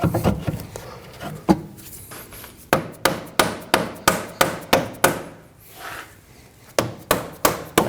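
A dead blow hammer knocks a front control arm into place on a Ford Edge, landing a loud, steady series of sharp thuds, about two per second after a few scattered opening blows, with no talking.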